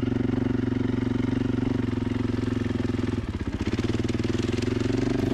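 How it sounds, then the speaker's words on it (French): A 450 motorcycle rides through the sand dunes of Merzouga, its single-cylinder engine thumping in a loud, steady rhythm up close, then loping more unevenly as the throttle is eased on a descent. "Il faut vraiment descendre en mettant un poil de gaz."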